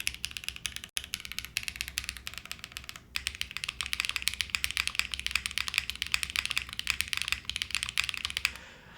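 Rapid typing on a keyboard with HMX switches, a close, busy stream of crisp clicks and clacks with a short pause near the start and a sudden stop at the end.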